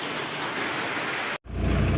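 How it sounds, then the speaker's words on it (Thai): Heavy rain pours down in a dense, steady hiss, briefly cutting out before resuming even louder with a deep rumbling undertone. "ฝนตกนะครับ"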